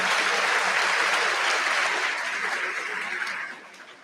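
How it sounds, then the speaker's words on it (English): Graduation audience applauding together in a large hall at a community college commencement, a dense steady wash of clapping that holds strong for about three seconds before tapering off near the end. "So please, I would just want a round of applause for Kim"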